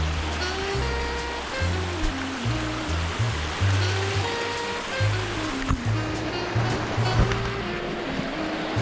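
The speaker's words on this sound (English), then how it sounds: "We're on top of the waterfall," Water at the top of a waterfall rushes in a continuous close roar, with a low droning hum and occasional small knocks running beneath the steady wash.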